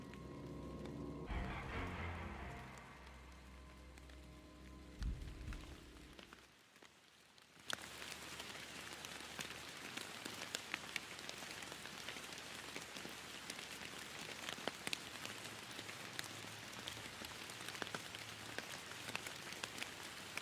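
Steady rain ambience in a city, a dense even hiss of falling drops that holds for many seconds after a brief louder stretch of mixed sound at the start.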